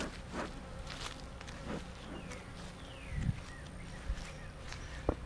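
Honey bees buzz around beehives in an outdoor apiary, giving a faint steady drone with occasional louder passes of single bees and a few soft footsteps or thuds, with no talking.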